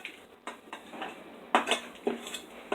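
Four ounces of chopped baker's chocolate stirred into cookie dough, heard as a series of close scraping clinks of a utensil against a bowl in an uneven rhythm, with no talking.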